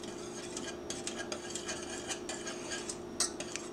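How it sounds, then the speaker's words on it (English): A whisk stirs a roux in a pot for lobster cutlets, giving quiet, rapid metallic scraping and tapping strokes against the pot in an uneven rhythm, fairly faint and with no talking. "To stir and get all these lumps out of it."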